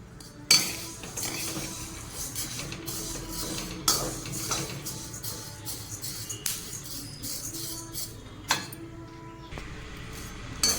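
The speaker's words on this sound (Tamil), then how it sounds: "நம்ம வெறும் வானல்லே நல்லா பொன்னிறமாக வறுத்து எடுத்துக்கலாம்" Black urad dal dry-roasts in an oil-free pan, heard as a spoon scraping and clinking against the metal in irregular strokes, with soft rustling of the lentils between louder knocks.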